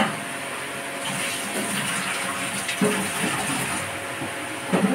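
Water runs in a continuous splashing stream into a cooking pan, steady and fairly close, with a few louder splashes and knocks partway through.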